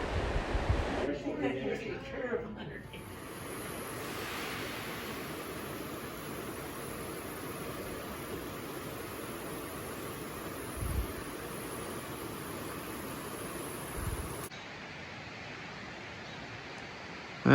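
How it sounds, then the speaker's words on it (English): A river in Twisp, Washington roars at dusk in a steady, broadband rush that stays close and even for the whole stretch, with no other clear sounds standing out. "You can hear the river roaring."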